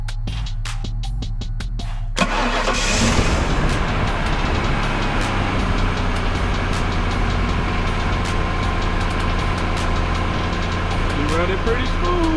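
A 1998 Ford F-150 with the 4.6 V8 cranks in quick rhythmic bursts for about two seconds, catches, then settles into a steady, loud, close idle with an even rumble.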